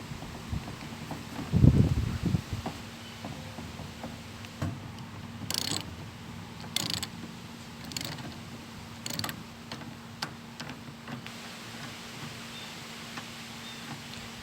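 A ratchet wrench loosens the steering wheel on a lawn tractor with close, intermittent bursts of sharp clicking, mixed with light metallic handling knocks and pauses between strokes.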